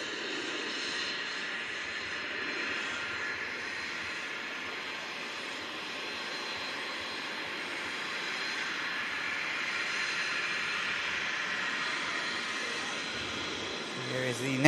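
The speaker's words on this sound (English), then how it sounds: "Here is the NetJets Embraer we've just watched touchdown. Taxiing off in front of us." A NetJets Embraer jet taxiing after touchdown in thick fog at Manchester Airport, a steady distant engine whine and roar holding level throughout.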